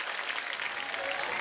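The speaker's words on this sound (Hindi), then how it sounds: "आप सबकी जोरदार तालियों के बीच please welcome the very beautiful" Studio audience applause at a televised Indian comedy talk show, a steady broadband wash of many clapping hands, moderately loud and continuous throughout without a break.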